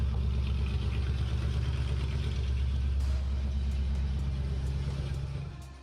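A deep, steady V8 engine rumble runs throughout in a restored Land Rover Defender 90, idling or running close by, easing off slightly at the very end.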